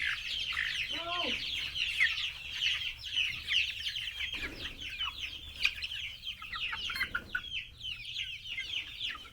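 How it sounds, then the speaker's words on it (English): Young chicks and juvenile chickens, still growing back feathers, cluck and cheep continuously in a crowded outdoor chicken tractor, with a bird call rising above the flock and faint talk in the background. "There's chickens everywhere. Millions of chickens."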